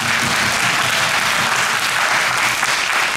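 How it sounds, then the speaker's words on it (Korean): Dense, sustained applause fills a theater as the cast claps for the audience at the closing-performance curtain call of the musical Kinky Boots, loud and continuous with no talking. "저희가 박수 쳐드릴게요."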